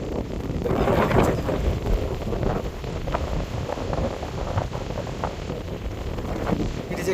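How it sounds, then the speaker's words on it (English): Strong, cold wind buffets the microphone on a mountain trail to Gokyo, a loud continuous roar with gusts swelling and easing throughout. "It is extremely windy and the wind is just chilly, extremely cold."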